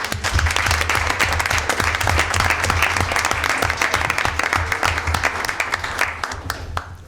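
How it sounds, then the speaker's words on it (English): Roomful of people at a municipal board meeting applauding briskly for several seconds over a low steady hum, the clapping dense and even before easing off at the end. "So one more round of applause for you"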